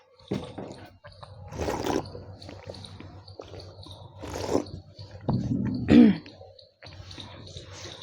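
Someone coughs and clears their throat several times in rough, scattered bursts, close to the mic, with quiet pauses between.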